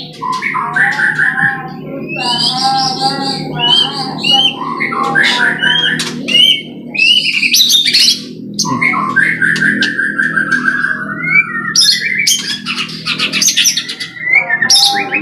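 A black-tailed Nias white-rumped shama (murai batu) with a 14-feather tail sings loudly and continuously, pouring out varied whistles, trills and chirps up close, with no voices.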